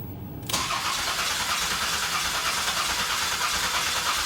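A Buick Reatta's engine cranks briefly, then catches and runs with a steady, close rumbling idle that continues alone without any voices.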